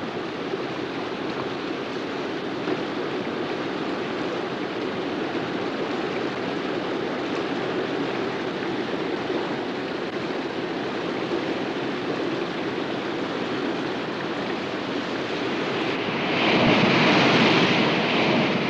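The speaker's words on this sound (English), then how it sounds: "the water runs off to flood the surrounding rivers, flushing fallen trees and debris out to sea" Rainforest floodwater rushes through swollen rivers out to sea, a broad continuous roar of churning water with wind buffeting the microphone, growing louder and brighter near the end.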